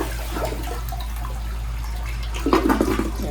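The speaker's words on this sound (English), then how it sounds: "Now we'll flush." Toilet flushing at a family lodge with its water system just started, a rushing swirl of water rising near the end over a steady low hum.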